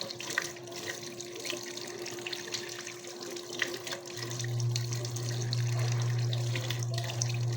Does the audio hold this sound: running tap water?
yes